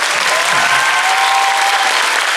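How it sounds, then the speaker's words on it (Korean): A packed audience at an actor Q&A after a screening at the Busan International Film Festival gives a burst of steady, full applause, close and loud throughout. "한지민 배우님께 박수 부탁드리겠습니다."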